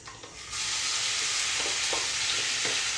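Chopped tomato and onion go into hot oil already tempered with asafoetida and cumin, and a quiet hiss turns into a loud, steady sizzle with a few faint stirring scrapes, close up and with no talking.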